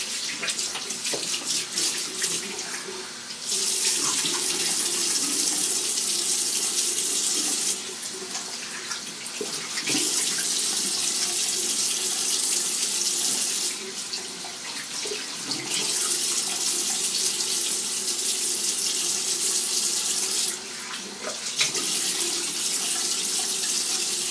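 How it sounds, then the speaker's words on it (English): Tap water runs steadily while a freshly shaved head is rinsed after a safety-razor shave, a close, continuous rush with a few brief dips and shifts as the flow is interrupted. "Alright, I'm going to rinse and see how that feels."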